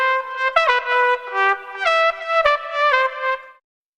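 A solo lead trumpet from a dance track plays a catchy melody of short and held notes in a lively rhythm, bright and upfront, alone without other instruments or voices, ending abruptly.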